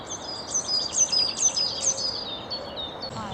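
A robin and blue tits singing nearby, a run of bright repeated high chirps and trills that tapers off, with quiet outdoor ambience and no talking.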